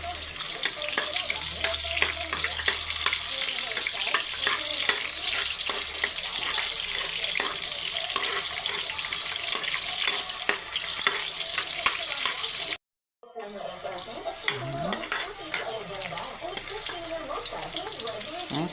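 Garlic sautés in hot oil with a dense, continuous sizzle and frequent scraping stirs of a spoon in the pan, briefly cut off near the end before the frying resumes just as loud.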